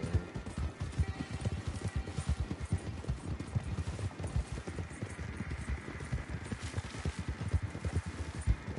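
A horse gallops in the video game Red Dead Online, its hooves beating in a fast, steady, close rhythm that runs throughout.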